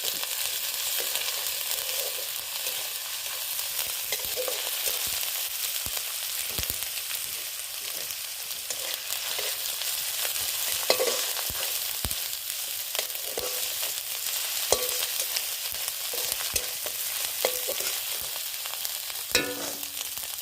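Pork sizzles in a pan with ginger and garlic, a continuous bright frying hiss broken by scattered spatters and occasional stirring clicks, close and alone.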